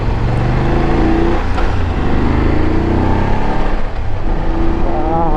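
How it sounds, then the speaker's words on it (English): BMW motorcycle engine roaring while riding on bumpy roads in traffic, a loud continuous drone with rising and falling revs throughout. "This bike is roaring"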